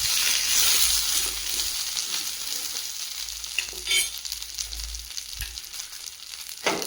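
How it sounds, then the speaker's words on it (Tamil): Green chillies sauté in a pan, giving a bright, continuous sizzle broken by occasional stirring scrapes and soft clatters, close and fairly quiet. "பச்சை மிளகாய் நல்லா வதங்கி வந்ததுக்கப்புறம்"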